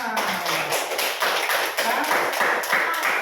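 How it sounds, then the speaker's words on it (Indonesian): Classroom audience clapping hands together, a dense, steady patter of many hands filling the room for about three seconds, with a few voices mixed in. "Tepuk tangan."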